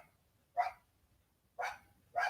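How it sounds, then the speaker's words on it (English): A dog barks three times at a steady interval, single sharp woofs standing out clearly against near silence. "I hear the dog barking"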